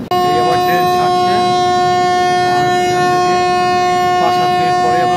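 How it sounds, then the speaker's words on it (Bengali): A passenger train pulling out of a station on the way to Kathgodam, a loud steady tonal horn or whistle held throughout over rumbling rail noise, close by, with faint voices underneath. "এই আমার ট্রেন ছাড়ছে"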